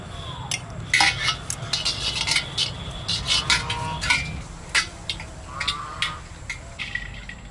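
A biryani pot being greased all around with ghee gives off a run of light metallic scrapes and clinks, close and fairly quiet, with short irregular bursts of utensil contact.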